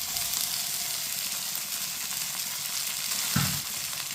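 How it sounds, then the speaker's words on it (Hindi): Finely chopped tomatoes hit a pan of lightly browned onions, sizzling and frying in a steady hiss throughout, with a brief louder burst of stirring or fresh sizzle near the end. "तीन टमाटर डालेंगे बारीक कटे हुए"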